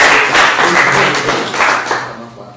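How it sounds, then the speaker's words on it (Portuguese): Short burst of congregational clapping in a church, loud and close, fading out toward the end with some voices mixed in. "Você pode aplaudir o nome dele?"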